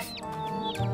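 Small chick peeps and cheeps, high and chirpy, repeating quickly over a steady low background hum, close by.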